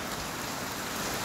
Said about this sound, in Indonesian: Nah, baru kali ini nih ngalamin hujan sudah jam 6.